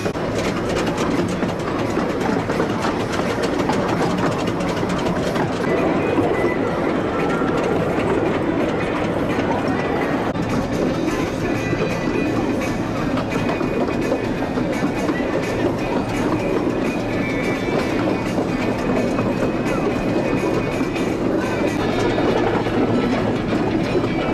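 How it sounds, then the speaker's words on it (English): A theme park train ride at Paultons Park during a Christmas event rumbles along steadily with continuous clickety-clack of wheels on track, loud and close throughout. "But let's continue our train ride."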